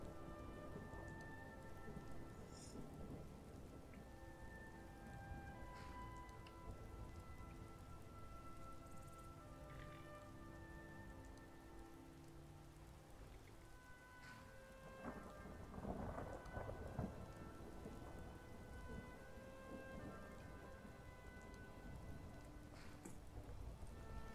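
Rain and thunder in the video game Skyrim: a steady patter of rainfall with low rolling thunder swelling midway, all at a soft, distant level with no voices.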